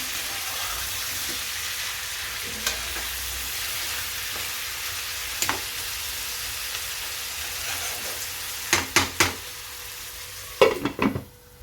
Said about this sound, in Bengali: আমি গ্যাসটাকে জ্বালিয়ে দিলাম হাই হিসেবে আমি আগে কিছুক্ষণ মাংসটাকে নাড়াচড়া করে নিলাম